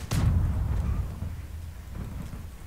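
A grenade bursts in the online shooter Zula: a sharp, loud low boom at the start, followed by a rumbling decay that trails off with faint distant thuds.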